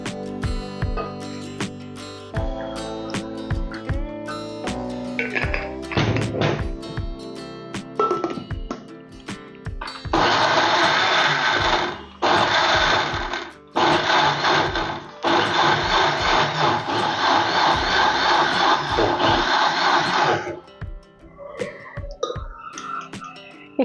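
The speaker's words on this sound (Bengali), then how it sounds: "পানি দিয়ে এটা প্রথমে ব্লেন্ড করে নিব" A kitchen blender whirring through orange and carrot pieces with a little water, loud bursts of motor roar broken by short pauses, preceded by clattering and handling sounds.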